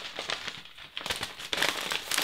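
A biodegradable cookie packaging bag crinkles and rustles up close in irregular bursts of crisp crackling that grow louder toward the end, with no talking.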